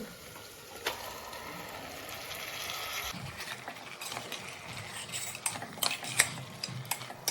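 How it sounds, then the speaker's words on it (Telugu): Half a kilo of mutton stirred in a pot with a metal spoon, giving steady scraping and clinking over a soft sizzle, with sharper clatter toward the end. "తర్వాత ఒక 1/2 కేజీ మటన్ తీసుకొని బాగా కలుపుకోవాలండి"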